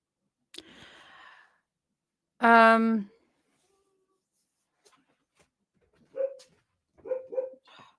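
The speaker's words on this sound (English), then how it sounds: "One's scratching to try to get in, and then the other one started barking immediately" Two dogs indoors, one scratching at a door to get in while the other barks; a loud harmonic bark stands out, followed by a few shorter yips, with a faint scratchy noise and breathy sounds earlier.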